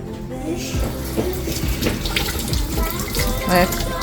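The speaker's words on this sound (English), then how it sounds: "wash your hand first" Water runs steadily from a kitchen or bathroom tap as hands are washed under it, a close, continuous splashing stream that lasts the whole stretch with faint background voices.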